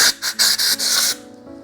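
Compressed air blasts debris out of a Penn Fierce II 5000 spinning reel during servicing, heard as several short, loud hissing bursts in quick succession that stop abruptly, leaving quiet.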